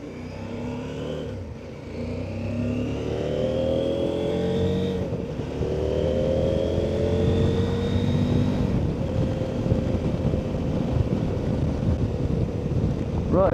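A CFMOTO motorcycle accelerating through the gears, its engine note climbing in repeated rising sweeps with brief dips at each shift, loud and close with heavy wind rush over the microphone.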